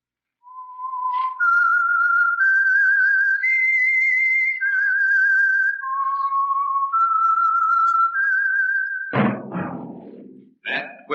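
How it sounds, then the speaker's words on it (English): A whistled theme tune for The Whistler radio drama, a clear, loud melody of sustained notes that rise and fall steadily, followed near the end by a few sharp thumps and knocks. "That whistle is your signal for the Signal Oil Program, The Whistler."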